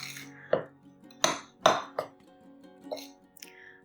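Dried cherries are tossed into flour in a mixing bowl, producing a few scattered clinks and knocks of a utensil against the bowl with quiet pauses in between.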